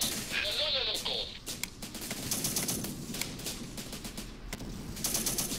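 Gunfire in the war strategy game Syrian Warfare, with sharp shots and bursts scattered through a busy battle mix of mid-range rattling and background noise.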